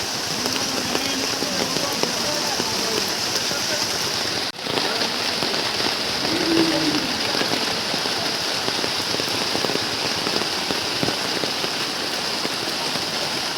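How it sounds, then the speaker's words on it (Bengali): Heavy rain pours down on an outdoor Qurbani cattle market at the Circuit House field in Mymensingh, a dense, constant hiss of drops drumming on surfaces, with a brief dip near the start. "প্রচুর বৃষ্টি হচ্ছে ময়মনসিংহ শহরে"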